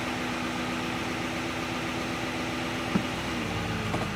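A 2024 Duramax diesel truck engine held near 1500 RPM in reverse, a steady droning engine hum with a constant low tone at moderate level, a small click near the end.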